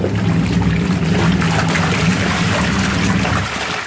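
A washing machine churns clothes in water at home, giving a loud, continuous sloshing and swishing with a low rumble that eases slightly toward the end.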